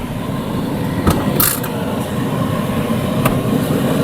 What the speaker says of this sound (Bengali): টেস্ট ড্রাইভ দিচ্ছি Premio FL package, 2015 model, 2019 registration.